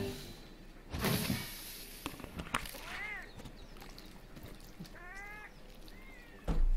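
A Palico cat companion in the game Monster Hunter World gives a few short, high meows spaced across a few seconds, mixed with other in-game clatter and no talking.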